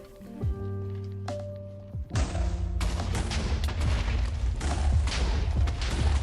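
A row of TNT detonates in Minecraft, a sharp blast followed by a dense rolling chain of booming explosions that continue loudly to the end.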